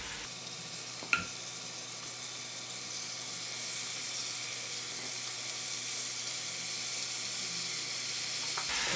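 Venison meat sizzles steadily in hot frying masala for a hot and dry buck curry, a continuous close hiss with a sharp clatter near the start and light stirring knocks.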